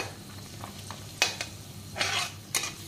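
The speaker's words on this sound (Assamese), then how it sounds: "কাজু আৰু কিচমিচ আৰু আলমণ্ড দুটামান অকণমান ফ্ৰাই কৰি ল'ম" Cashews, raisins and almonds frying briefly in a pan for chicken biryani, heard as a soft, steady sizzle broken by a few sharp scraping stirs and clinks of a utensil against the pan.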